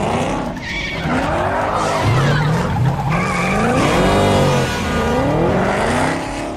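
A 2013 Ford Shelby GT500 with a supercharged 5.8-litre V8 races in Forza Motorsport, its engine note rising and falling through gear changes with loud, continuous tire squeal and skidding throughout.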